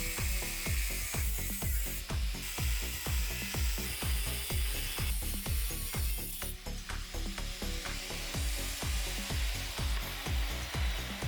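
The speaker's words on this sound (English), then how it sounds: "the trusted angle grinder. It's going to get really loud, so let's get some hearing protection." An angle grinder cuts open a metal compressor casing, a loud, steady, harsh grinding roar with rapid rhythmic pulsing that runs unbroken throughout, close by, with no voices.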